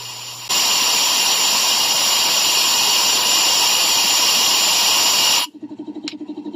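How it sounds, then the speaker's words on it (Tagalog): A steady loud hiss as an air duster blasts air into the gasoline-wetted combustion chamber of a Yamaha Mio Soul i 125 motorcycle with hard starting and lost compression, cutting off sharply into quiet bubbling. "pagbuga nyo gamit ang air duster"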